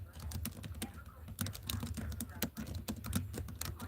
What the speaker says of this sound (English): I'm typing it in here.